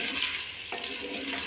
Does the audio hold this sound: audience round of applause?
no